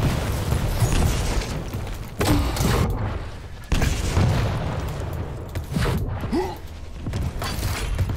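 A grenade goes off in Call of Duty: Black Ops 4 Blackout on PC, booming bursts cutting through constant loud game ambience, with several sharp onsets spaced a second or two apart.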